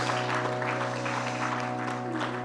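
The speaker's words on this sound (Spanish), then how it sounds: "Por dar un fuerte aplauso al Señor y a la vida de nuestro pastor." Church congregation at an Easter Sunday service gives steady, moderately loud applause throughout, with a sustained low organ-like tone underneath and no talking.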